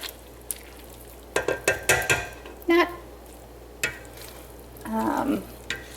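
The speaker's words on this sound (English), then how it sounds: "we're going to just mash this up a little bit, just like you're mashing potatoes" Vegetables are mashed in a pot of soup with a utensil, giving scattered, irregular soft thumps and squelchy scrapes against the pot, close and fairly loud against a quiet background.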